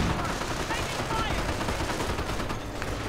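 A WWII strategy video game battle with an MG42 machine gun firing on riflemen, a dense, continuous rattle of automatic gunfire that stays steady and loud throughout.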